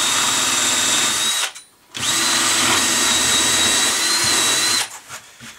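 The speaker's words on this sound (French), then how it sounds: "Donc là je l'ai percé." A power drill bores through a medium-density fibreboard plank, its loud, steady whine running for a few seconds, cutting out briefly, then continuing before stopping near the end.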